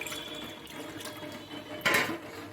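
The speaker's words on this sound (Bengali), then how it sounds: "কড়ার মধ্যে আমি জল দিয়ে দিচ্ছি" Water poured into a kadai for boiling onions, green chillies, cashews and almonds, a short splashing pour over steady running water that swells near the end, close by, with no voices.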